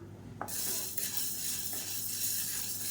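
Green gram (mung beans) being dry-roasted in a pan, a steady gritty rustle and scraping as the dry beans are stirred, close and fairly quiet, with no talking.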